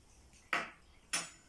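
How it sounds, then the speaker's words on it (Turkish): A metal spoon is set down twice on a hard surface, two short, close clinks about half a second apart in a quiet room. "Bir adet kaşık."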